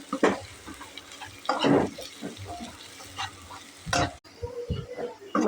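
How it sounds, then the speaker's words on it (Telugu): Curry leaves, green chillies and ginger garlic paste frying in oil in a pan, crackling and sizzling in uneven bursts with occasional scraping stirs, close and fairly loud. "ఇప్పుడు అదే పాన్లో కొంచెం ఆయిల్ వేసుకొని కరివేపాకు అండ్ పచ్చిమిర్చి అండ్ అల్లం వెల్లుల్లి పేస్ట్ వేసుకొని బాగా బ్రౌన్గా వచ్చేంత వరకు వేయించుకోండి"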